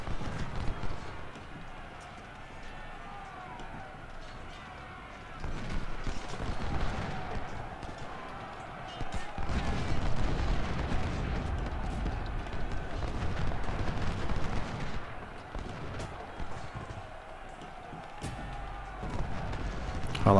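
Union troops fire muskets in the Ultimate General Civil War game, with scattered gunfire crackling over a dense rumble of battle and marching noise that swells and fades in waves.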